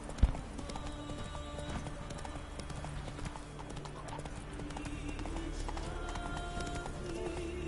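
Roach, Geralt's horse, galloping in the snowy setting of The Witcher, with steady rapid hoofbeats at moderate volume and a faint music bed underneath.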